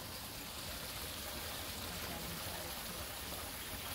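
Water flows in an outdoor stream with a soft, continuous rushing hiss. It is faint but unbroken throughout, with no voices over it.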